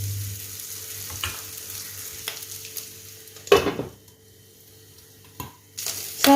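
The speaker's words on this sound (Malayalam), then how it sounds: "സോസേജ് നന്നായിട്ട് ഫ്രൈ ആയി വന്നിട്ടുണ്ട്" Chicken sausages fry in oil in a pan with a steady low sizzle, punctuated by a few louder scraping stirs and clinks of a utensil against the pan, no voices.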